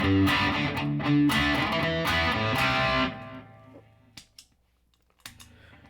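Electric guitar chords, played through a heavy distortion pedal, ring out loud and thick for about three seconds, then are cut off, leaving a few faint clicks and taps.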